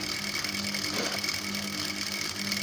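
Sewing machine running a skirt seam, a steady close mechanical whir with faint rhythmic clicking, heard alone without talk.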